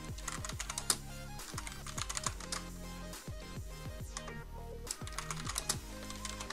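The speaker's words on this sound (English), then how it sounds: "Now here you need to type the domain you want to redirect." Computer keyboard typing in quick irregular bursts of clicks, close and fairly quiet, with a brief pause midway.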